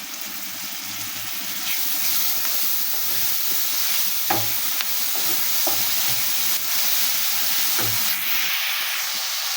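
Garlic and ginger paste sizzles steadily in hot oil in a pan, made after a nigella seed tempering for a small-fish curry. The hiss holds close and continuous, with a few soft clinks of stirring.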